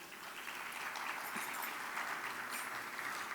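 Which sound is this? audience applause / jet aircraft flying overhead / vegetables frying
audience applause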